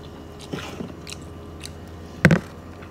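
Food is bitten and chewed close up, with soft chewing noises and then one loud crunchy bite near the end, with no talking over it.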